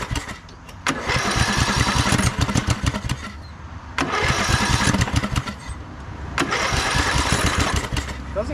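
A Craftsman LT2000 lawn tractor, found broken, cranks over in three long bursts separated by pauses; the starter churns rhythmically and the engine tries to fire without catching.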